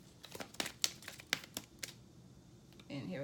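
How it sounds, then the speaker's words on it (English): Oracle cards are shuffled by hand in quick crisp riffles and flicks, a string of close sharp snaps over about two seconds before it quiets, then a voice starts to speak. "One more shuffle."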